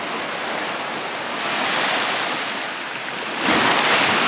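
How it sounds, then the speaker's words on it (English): High-tide sea waves washing up stones on the Pembrokeshire coast, a steady broad roar of surf that swells midway and surges louder near the end, with no voices. "a high tide, lots of stones being washed up"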